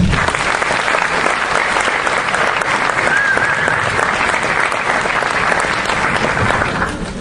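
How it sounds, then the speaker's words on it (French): An audience applauds the organizing team at a conference on the European Union and the Palestinian question, a dense, steady roar of many hands clapping that holds at full strength before easing off at the very end. "Donc j'aimerais que vous les applaudissiez"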